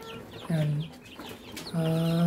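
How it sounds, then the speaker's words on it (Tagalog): Rhode Island chicks give two sustained peeps with a few short chirps between them, close and fairly loud in a quiet hobby-farm setting. "Sisiw ng Rhode Island din yan."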